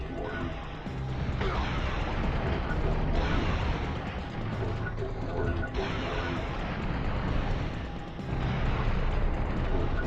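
Dense, continuous rumble of rocket launcher explosions in the Turok: Dinosaur Hunter game, heavy low-end blasts and crashing debris layered back to back for the full stretch, loud and close with no pauses.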